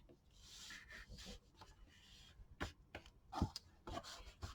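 A paper fold on a mini album is burnished flat, soft intermittent rubbing and scraping strokes, quiet and close, with a few sharper scuffs toward the end.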